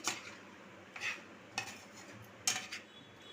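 Chana chaat being stirred with a spoon in a pot, a few distinct clinks and scrapes of the spoon against the metal at irregular intervals, close and fairly quiet.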